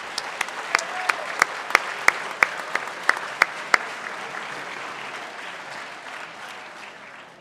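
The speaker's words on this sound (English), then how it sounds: "let's give a round of applause to everybody in Dungeons & Dragons" Applause at a school chapel assembly, a roomful of students clapping steadily, with a few loud sharp claps standing out near the start before the sound thins into a softer, fading patter.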